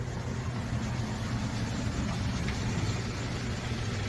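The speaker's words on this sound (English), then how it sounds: "Let's watch the traffic and people go by." Steady street traffic rolls past a porch in Old Town Key West, a continuous low engine rumble and idling hum of passing cars at moderate distance, with no clear speech.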